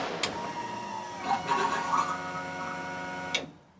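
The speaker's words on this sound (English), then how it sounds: "we can hear the fan turn on." A fan in an AE86 car switches on and runs with a steady whirring hum, punctuated by a few clicks from the switch box at the start and end before winding down.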